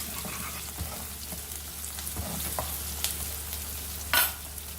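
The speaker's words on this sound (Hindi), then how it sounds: "प्याज को भी हल्का सा भून लेंगे। साथ में डाल देंगे हम हरी मिर्च।" Onion and green chillies fry in a pan with a gentle, continuous sizzle, punctuated by occasional stirring scrapes and a sharp clink near the end; low and close, no speech.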